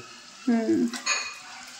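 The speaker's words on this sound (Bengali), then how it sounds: "এখানে পকোড়া ভাজা হচ্ছে" Pakoras frying in hot oil give a low steady sizzle, with a brief louder clattering burst near the middle, over a short stretch.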